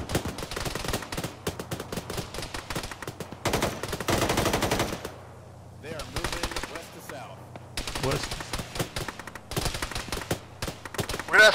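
Rapid automatic gunfire rattles in a military shooter firefight, with bursts of sustained close shooting broken by short lulls and single shots, loud and near, and faint talk underneath.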